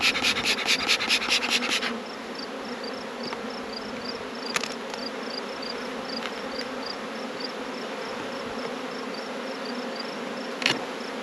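Honey bees buzz steadily around hive boxes outdoors, a dense continuous drone with a brief rhythmic scraping at the start and occasional small knocks.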